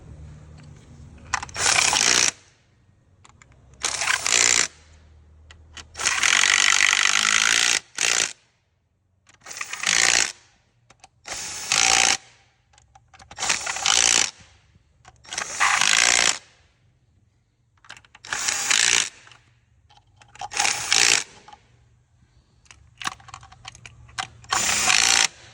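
A ratchet wrench torquing bolts on a BMW 335d engine, heard as about ten bursts of rapid clicking, each lasting one to three seconds and separated by short pauses, close up with no talking.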